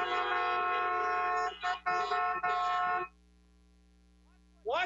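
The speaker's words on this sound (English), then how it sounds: "I can take a honk for that." A car horn sounds inside a church service: a loud, steady honk of about a second and a half, then two more blasts in quick succession, followed by near silence and a faint start of another sound.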